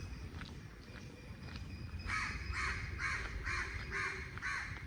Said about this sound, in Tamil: இன்றைக்கு ஒரு அமைதியாக குருவிகள் சத்தம் மட்டும் தான் கேட்குது